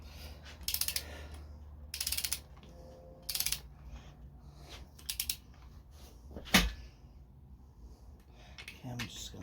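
A ratchet tightening bolts on a Honda Civic engine block, heard as several short bursts of clicking spaced a second or so apart, fairly close and quiet, with faint talk between.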